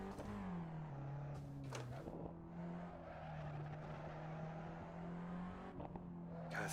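A race car engine in a racing video game holds a steady high drone through a final lap, with brief tire squeals and skids breaking in near the start and end, loud and continuous with no talk.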